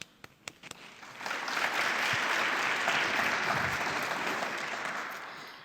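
An audience claps for a speaker at a multiculturalism talk at The Ismaili Centre, starting with a few scattered claps that swell into sustained, even applause before easing off slightly at the end.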